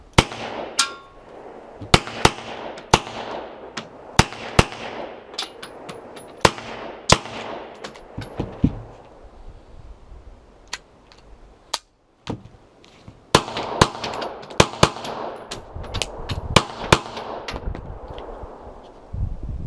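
Old German-made guns firing with aging magazines produce sharp, loud gunshots in irregular bursts and single reports, some shots clustered rapidly and some separated by pauses, echoing outdoors.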